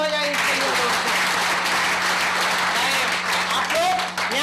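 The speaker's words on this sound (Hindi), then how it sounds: "एक बार जोरदार तालियां हो जाए इसके लिए दोस्तों" Audience applauding at a company presentation, a dense burst of clapping that fills the room, with a voice speaking over it at moments.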